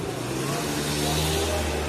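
Motorbike engine running steadily during an outing in the city of Kairouan, a continuous close mid-pitched drone with a slight revving rise, loud and unbroken throughout.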